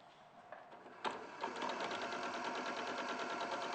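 A sewing machine stitching patchwork runs in a steady fast whirring chatter, starting with a few short bursts before settling into a continuous close mechanical drone.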